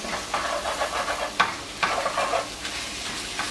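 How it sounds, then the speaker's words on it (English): Spinach, mushrooms and garlic sizzle and fry in a pan over medium flame, with steady crackling and several louder stirring scrapes close by, and no talking. "just let the spinach start to wilt, cook up with the mushrooms and garlic"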